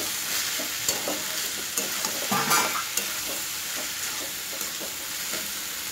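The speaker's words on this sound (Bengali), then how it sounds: "জল ছিটে দিয়ে জল চিনি দিয়ে ভাজা হয়ে যাবে।" Soaked dalia (broken wheat) frying and being stirred in a pan with a sprinkle of water and sugar, a steady close sizzle with repeated scraping stirs and a brief louder burst of spitting midway.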